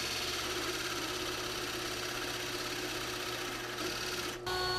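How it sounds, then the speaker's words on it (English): A Forstner bit drills holes in a clamped wooden part for a whiskey box. A steady, close motor hum runs throughout and briefly dips near the end. "I clamped it down for safety and drilled out the holes."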